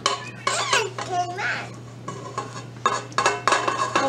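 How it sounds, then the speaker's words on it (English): Butter and sugar are mixed in a bowl for chocolate chip cookies, with utensils clinking and scraping against the dish in short bursts while a child and an adult talk over the work. "now we're gonna mix our butter and our sugars together"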